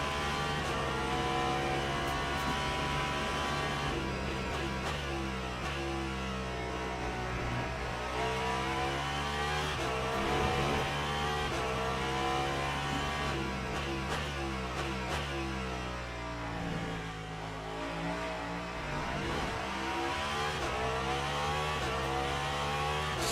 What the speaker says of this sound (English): Love that noise on that Cadillac.